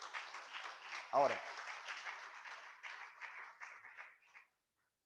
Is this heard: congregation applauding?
yes